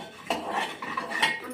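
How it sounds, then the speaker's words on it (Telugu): A spoon scrapes and clinks against a pot while stirring coriander seeds, a few quick metallic knocks and rattles close up, with no talking. "ఇప్పుడు నేను ఈ ధనియాలను కలుపుతున్నా చూడండి"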